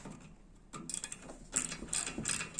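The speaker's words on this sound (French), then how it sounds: "La douille de 9 qui fait bien son boulot." Ratchet wrench with a 9 mm socket turning a bolt on a moped, a run of quick clicking pawl strokes in bursts, close and fairly quiet, with no talking.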